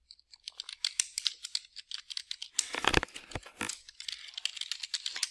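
Rapid, irregular clicking of keys on a computer keyboard, close and fairly quiet, with a brief louder clatter midway.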